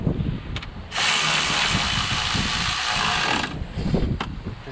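A ratchet tightens bolts on a car's radiator, giving a steady, close rasping whir of rapid pawl clicks for a few seconds. Short clicks come before and after the run.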